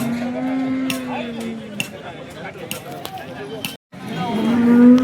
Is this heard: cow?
yes